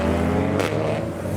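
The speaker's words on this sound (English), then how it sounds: "Cars are now departing from here." A modified car pulls away from a city car meet with a loud, close engine drone and a brief rising rev burst midway.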